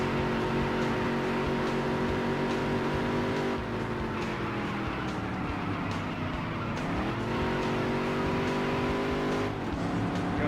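A video game race car engine drones and revs continuously at high pitch, dipping and climbing as gears shift, loud and steady throughout.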